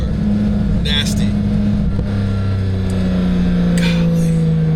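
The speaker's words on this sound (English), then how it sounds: "Nastiest exhaust I've ever had on any car." A 2022 Porsche 911 GT3 exhaust drones loudly and continuously, its pitch sliding gradually as revs change, while a person calls out in short bursts above the engine.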